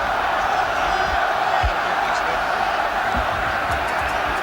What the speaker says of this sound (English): A little bit of encouragement from this drenched and frozen crowd.